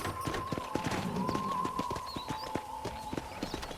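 Horse hooves clip-clop steadily on a ranch in the Red Dead Redemption video game, a clear rhythmic trotting with a few voice sounds mixed in beneath.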